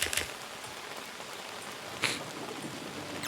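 Heavy rain falls outdoors with a steady, dense hiss of drops hitting surfaces, and a couple of louder splashes stand out briefly.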